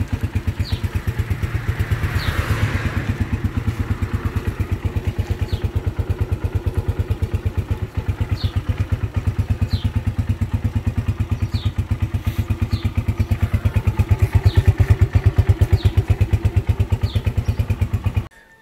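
A 2020 CG X1000 200cc six-speed racing motorcycle engine runs close and loud, with a steady, even pulsing beat that holds for the whole stretch and rises slightly near the end. No one speaks.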